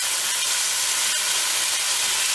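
Tomatoes, a mix of fresh and tinned chopped, stirred into a sizzling spiced onion base for a rustic Rajasthani chicken curry, giving a steady, close hissing sizzle throughout with no talking.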